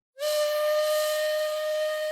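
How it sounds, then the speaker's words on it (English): A steam train whistle sounds for passengers to board, beginning suddenly after a brief silence and holding as one loud, steady, shrill tone with a breathy hiss until the end, with no voices present. "The whistle blows for you to load onto your train."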